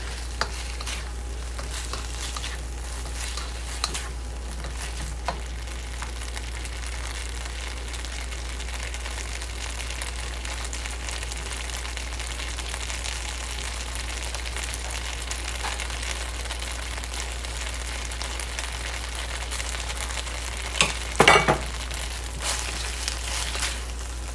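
Szechuan-style green beans stir frying in sauce in a hot pan or wok, a steady close sizzle with light stirring scrapes throughout and a brief louder clatter near the end.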